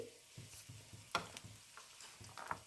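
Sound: poppy seeds frying in a pan

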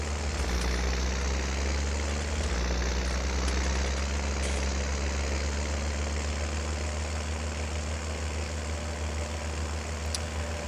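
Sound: tractor engine driving in Farming Simulator 19 video game

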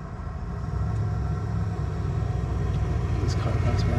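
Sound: car driving by

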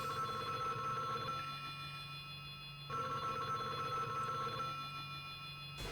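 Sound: telephone ringing in video game Final Fight

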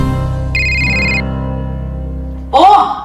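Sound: phone ringtone

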